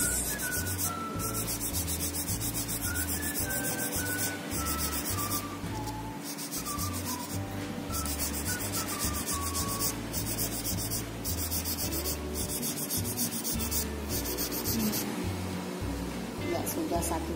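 A coarse nail buffer rubs back and forth across a toenail during a pedicure, making a steady, close scratchy sanding sound in repeated strokes beneath continuous background music.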